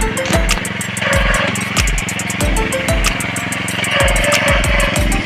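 A rice harvesting machine cutting paddy in a village runs with a loud, steady engine drone, broken by repeated rhythmic mechanical thumps and clatter from the cutting mechanism.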